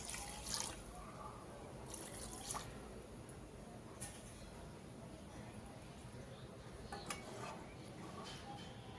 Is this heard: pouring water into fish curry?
yes